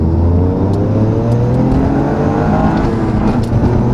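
Toyota GR Yaris fitted with a catless downpipe accelerating hard through a second gear pull, a loud, continuous engine and exhaust drone with rising harmonics heard close and steady, with no talking.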